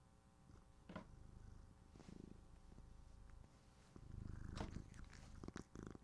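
A house cat purrs close by in a quiet room with a low steady rumble, and a few brief chirps and meows rise over it near the end.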